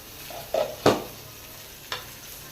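Mackerel wrapped in turmeric leaf is flipped in a frying pan, giving a few soft scraping and clattering knocks over a faint, quiet sizzle, with no talk.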